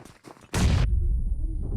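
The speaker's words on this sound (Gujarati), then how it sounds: "એ બોમ્બ આવી ગયો" A bomb goes off in the battle royale game BGMI, with a loud, close, sharp blast that holds a long rumbling roar after it. Talk from players can be heard just before the blast.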